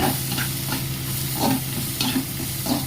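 Chopped onion sautés in a pan with a steady close sizzle and rhythmic scraping strokes of a stirring spoon, loud and without voices.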